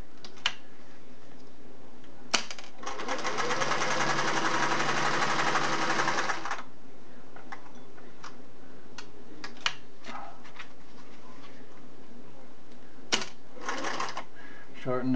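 Singer Model 401A sewing machine running a straight stitch with a number 14 needle, one steady burst of a few seconds, with brief clicks and handling sounds before and after.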